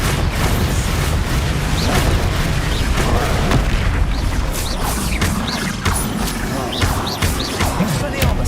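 Confringo fire spell explosions and impacts in the Hogwarts Legacy video game, a busy run of booming blasts and crashes over a constant loud battle din, with brief voice sounds mixed in.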